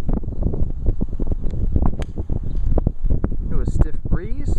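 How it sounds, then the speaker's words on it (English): A stiff breeze gusts across a golf course, buffeting the microphone with a loud, continuous low rumble that swells and dips, and brief outdoor sounds break through near the end. "It was stiff breeze, Tyler Lyons."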